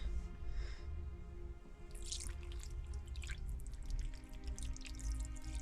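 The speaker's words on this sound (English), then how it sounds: "This is what the broth looks like. Let's pour that in." Shoyu ramen broth poured from a container into a bowl on a flat surface, soft liquid splashing and trickling with a few drips over a low background hum.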